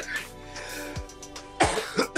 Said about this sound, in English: But the coughing is good